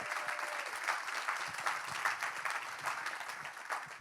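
Sustained audience applause during an Air Supply interview event, dense steady clapping filling the room from a crowd, fairly loud and continuous throughout without talk over it.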